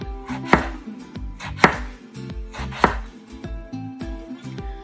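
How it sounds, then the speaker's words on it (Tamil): A knife slices small eggplants into rounds on a board, giving three sharp, close cuts about a second apart with softer taps between. Music plays underneath, and no one talks. "ஸோ இதை நீங்கள் இப்படி ரவுண்டாக வெட்டிக்கணும்."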